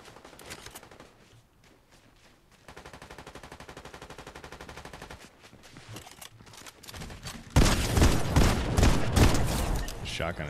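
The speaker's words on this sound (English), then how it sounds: "Shotgun is saving my life." Gunfire during a solo match in Fortnite Chapter 5, rapid repeated shots crackling in bursts, then a loud heavy barrage close by near the end.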